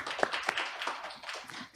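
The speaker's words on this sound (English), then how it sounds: "Let's give another round of applause to all our professors, panelists, and also presenters." Forum audience gives a short round of clapping, individual hand claps distinct and fairly close, lasting under two seconds.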